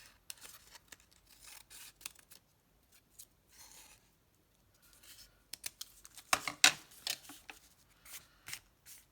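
Scissors trim junk mail paper in a few quick, close snips amid light rustling and handling of the paper.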